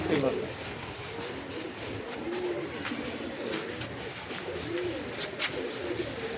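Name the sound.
Kalshira pigeon cooing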